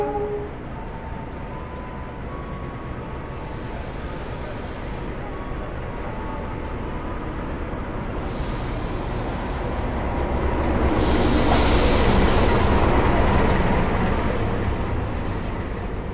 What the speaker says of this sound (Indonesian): Di stasiun Pasuruan kita juga akan bersilang dengan kereta ekonomi lokal Supas dari Surabaya kota tujuan ke Pasuruan ya.